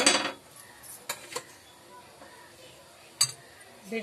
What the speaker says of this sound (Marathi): मग आता मी इथे हे गॅसवर भिडं ठेवलंय।